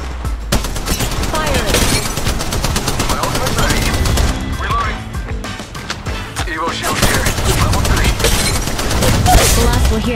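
Rapid bursts of gunfire and heavy impacts fill a chaotic firefight in Apex Legends Mobile, with shots crackling continuously and loudly across the whole stretch while a voice speaks over the battle.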